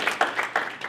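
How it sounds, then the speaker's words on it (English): Banquet guests at an athletic hall of fame awards ceremony clap briefly, a short scattered patter of hands from a modest crowd. "let's give her another round of applause"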